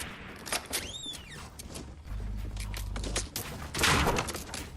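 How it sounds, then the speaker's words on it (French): Gunfire coming from behind the player in a Fortnite match, scattered shots and impacts mixed with game effects and rumbling, moderately loud amid other in-game noise. "Ça me tire dessus de derrière, les gars"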